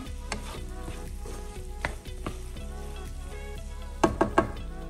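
Chicken keema simmering on low heat in a pan with fresh coriander being stirred in, giving a soft, steady sizzle punctuated by scraping clinks of the spoon, ending in a quick run of three sharper knocks against the pan.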